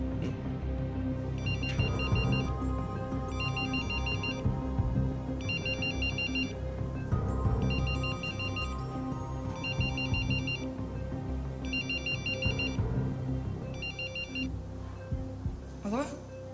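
A mobile phone ringtone repeats in short electronic bursts about every second and a half, fairly loud, over a busy background of room noise and murmuring voices in a hospital setting.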